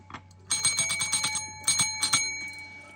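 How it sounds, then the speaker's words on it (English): A sacred bell sound effect rings out in several bright, shimmering strikes with long overlapping sustain, played alone during a cozy anime drawing stream. "Here's a sacred bell for you guys, since it's been a while since you've seen it."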